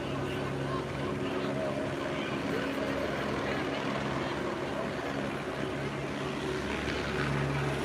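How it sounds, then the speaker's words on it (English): A steady rotor drone hums in the distance, constant and unchanging, with faint voices and street noise beneath it. "this chopper is just hovering right now"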